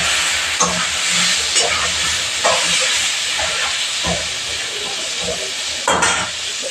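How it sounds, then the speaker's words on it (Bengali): Pointed gourd and potato pieces, seasoned with salt and turmeric, fry in a pan with a bright, steady hissing sizzle and occasional sharper crackles and clatters close by. "এবার আমি একটু ভেজে নেবো পটলটা। পটল আলু দুটোই লাল লাল করে ভাজা হবে।"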